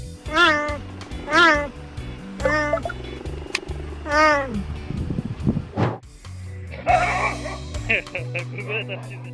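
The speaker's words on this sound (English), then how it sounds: "You were expecting roars of the wild and instead got meow meow, pet me, human" Cats meow repeatedly, several high, drawn-out cries close by, with a dog's yip and other animal noises mixed in near the end.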